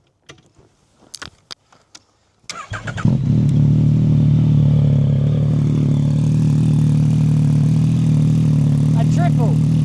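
A three-cylinder motorcycle engine starts with a few loud clanks and then settles into a steady, loud, close idle drone, with a voice speaking over it.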